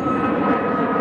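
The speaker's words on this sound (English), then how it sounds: "if you're wondering about the numerous airplanes that keep flying over" Airplanes flying over near Reagan airport, a loud continuous engine roar overhead dominating the moment, with no other sounds standing out.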